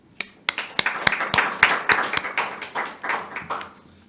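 A small forum audience welcomes a speaker with clapping that starts as a few sharp, separate claps and quickly grows into brief, uneven applause, heard close and alone without talk.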